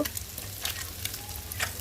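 A soft, steady sizzle of onions frying in oil, with a few louder crackling flares as they are stirred.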